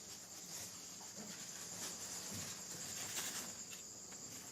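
Crickets chirp in a dense, continuous high trill, steady and moderately loud, with no voices.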